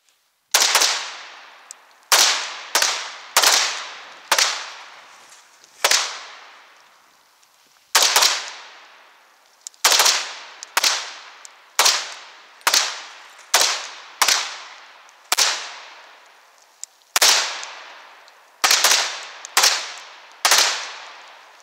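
Sharp gunshots crack in an irregular series at a shooting range qualification, loud and close, some shots spaced apart and others in quick pairs, with no talking between them.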